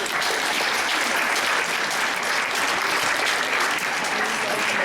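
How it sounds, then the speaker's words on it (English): Audience applause at a graduation ceremony, a thick, continuous roll of many hands clapping at an even level throughout, filling the hall with faint voices mixed in. "give the audience a round of applause for helping you on your journey"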